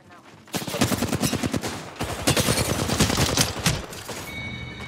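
Rapid automatic gunfire in Apex Legends, loud and close, in dense bursts of sharp shots that run nearly continuously for several seconds with a brief gap midway.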